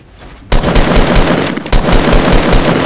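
Automatic gunfire rattles in a Fortnite Battle Royale match, two loud, close bursts of rapid, evenly spaced shots with a brief break between them.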